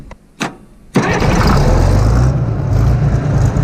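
Case 1150 dozer engine cranking with a couple of short bursts, then catching and settling into a loud, steady, rumbling diesel run close by.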